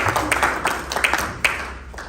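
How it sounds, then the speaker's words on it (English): Scattered applause from a small crowd at an investment conference, uneven claps at close range, fading out over a couple of seconds. "A round of applause for himself."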